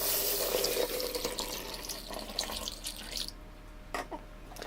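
Hot water pours into a bottle holding hydroponic nutrient powder, a close, full rushing splash that thins out and ends in a few scattered drips and small knocks.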